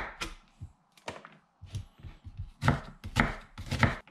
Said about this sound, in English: Roughly chopped onion.